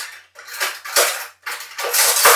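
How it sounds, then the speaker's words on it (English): Cutlery and dishes clink and rattle in close, bright bursts, a few quick clatters in succession with short pauses between them. "This is gonna use a lot of cutlery."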